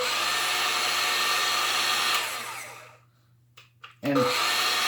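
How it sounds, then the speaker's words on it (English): A Makita 12V CXT cordless circular saw runs with a steady, loud high whine and motor hum, then winds down to near silence, followed by a couple of faint clicks and a short sharp restart burst. "It's got a little soft start too."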